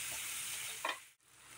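Spices frying in a pan while being stirred for a fish piyaji curry: a steady broadband sizzle throughout, one brief louder scrape of stirring near the middle, then a short dip before the sizzle resumes.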